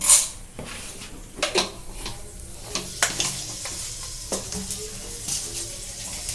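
Fenugreek seeds sizzle in hot oil while preparing a potato curry, a steady close hiss with a sharp crackle at the start and scattered clicks and taps throughout, no voices.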